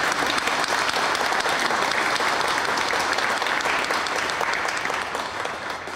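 Sustained, dense applause from an audience fills a ceremony welcoming a new chairman at a crime victims' support center, loud and even throughout before easing slightly at the end.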